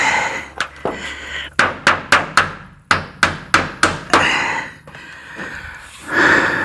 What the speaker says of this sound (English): I need to get my rubber mallet